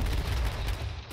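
Gunfire from the survival shooter H1Z1 crackles in a dense, steady burst of rapid shots, moderately loud and somewhat muffled, with no talk over it.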